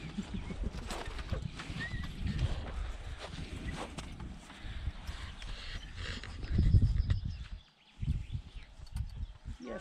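Draft horses on a Lviv-region farm stepping along, hooves clip-clopping in an uneven walking rhythm at moderate distance, with faint farmyard background and a brief dip near the end.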